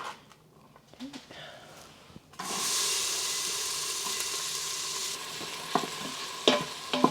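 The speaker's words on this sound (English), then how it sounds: "we're gonna brown the onions until they are" Onions browning in vegetable oil in a pan give a steady close sizzle that starts abruptly after quieter clatter, with light stirring knocks near the end.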